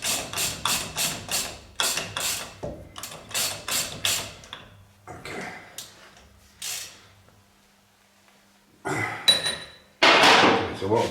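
Metallic ratcheting clicks in quick bursts from a torque wrench tightening a nut on a Jaguar independent rear suspension during a radius arm bush change, with sharp knocks and short pauses between pulls, close and fairly loud.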